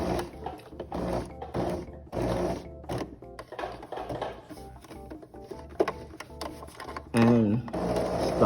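A sewing machine stitches a boat hem on a pair of pants in a run of rapid, close mechanical chatter with brief pauses, finishing in a short stop.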